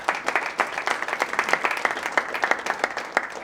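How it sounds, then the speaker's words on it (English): Applause from the audience at an annual general meeting of the ICAI Singapore Chapter, a crowd clapping steadily with distinct individual claps audible, moderately loud and continuous without speech. "A big round of applause to Anuradha Shroff."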